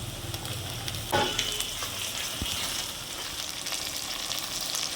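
Chopped tomatoes go into onions already browning in a pan for a meat curry, and a steady, close sizzle of frying carries on throughout with a brief splash and a few stirring knocks.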